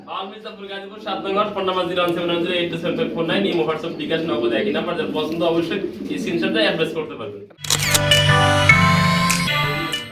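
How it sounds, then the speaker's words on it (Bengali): A pair of Lahori pigeons coo in a steady, throaty, pulsing run close by, followed by a louder burst of mixed bird calls and background noise near the end. "একজোড়া লাহরি কবুতর রয়েছে"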